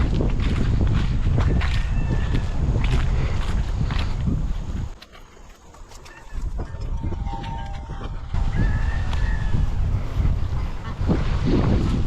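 Loud honking and quacking waterfowl calls carry on nearly throughout, with a brief quieter gap midway and some shuffling footsteps.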